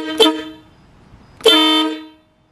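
A loud motorcycle air horn gives a short sharp honk, then after a pause a longer sustained blast, close and piercing with nothing else heard.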